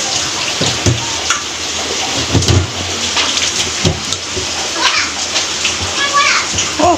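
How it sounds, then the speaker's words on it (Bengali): Pomfret fish is rinsed under running water with a steady splashing trickle and intermittent clatters, while a child and an adult talk loudly over it. "মাছ ধোয়া হয়ে গেছে"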